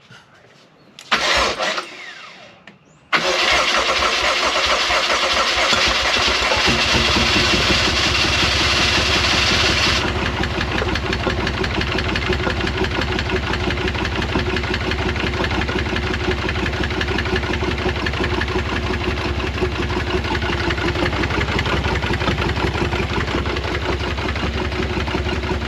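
A 2011 BMW 750Li with an N63 engine cranks briefly, catches and roars to life loudly, then settles into a steady, droning idle that runs on close and unbroken.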